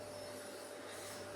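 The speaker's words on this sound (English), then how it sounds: "Got Anf giving it a vacuum" A vacuum cleaner runs inside a drift car's interior, giving a steady, even drone with a high whine, at moderate distance and uninterrupted by talk.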